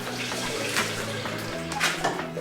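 Water poured into a container for a Shakeology shake being made for the kids, topping up about 16 ounces of milk; a steady continuous splashing pour with no talking.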